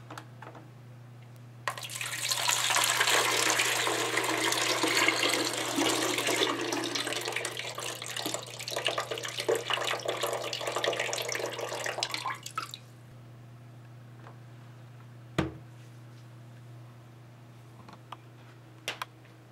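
Tap water pours steadily and loudly into a Frigidaire appliance for about eleven seconds, then stops abruptly, leaving a low hum with a single sharp clack afterward.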